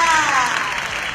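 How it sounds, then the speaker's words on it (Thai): A crowd claps at a fan-meeting press event on stage, a short, bright burst of applause with a voice talking over it. "ขอเสียงปรบมือดังๆกับทรงจุงจีค่ะ"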